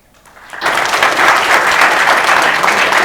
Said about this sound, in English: That deserves an applause, doesn't it?